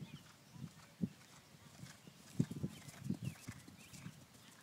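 A horse canters in a ring with soft, faint hoofbeats thudding in an uneven rolling rhythm, heard from a distance over low background noise.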